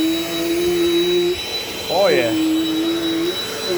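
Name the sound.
Dirt Devil Dynamite vacuum cleaner running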